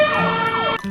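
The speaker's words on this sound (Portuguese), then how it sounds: "Caminhão de corpo bombeiro," Fire truck siren: a loud, close, steady wail with a pitch that sweeps up and down.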